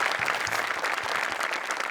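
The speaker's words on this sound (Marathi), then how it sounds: "जोरदार टाळ्या झाल्या पाहिजेत." An audience claps loudly and continuously at a prize announcement, a dense, even burst of applause throughout with no talking over it.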